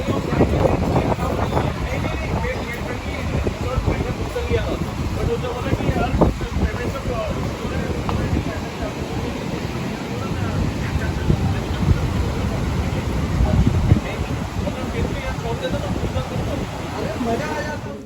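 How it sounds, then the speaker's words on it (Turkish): Sea waves and strong wind at Benaulim Beach in Goa, India: surf rumbles and washes continuously while gusts buffet the microphone, and a person speaks over the noise throughout. "Çok dalgalı."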